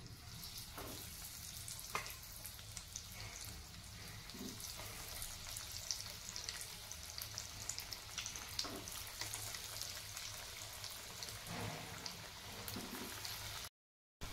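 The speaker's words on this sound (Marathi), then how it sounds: "आता तेलामध्ये टाकून घेऊयात कटलेट" Cutlets frying in hot oil in a kadhai over a medium flame give a steady, close, dense sizzle with scattered pops, running unbroken before stopping abruptly near the end.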